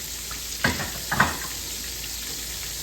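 Sea bass deep frying in hot oil, a steady broadband sizzle with two brief louder crackling bursts near the start, then settling back to a constant even fry.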